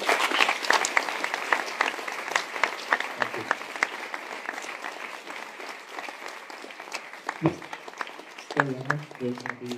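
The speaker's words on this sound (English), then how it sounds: "Another big applause for our speaker." Steady applause from a conference audience after a tech talk, dense clapping running throughout, with a few voices rising near the end.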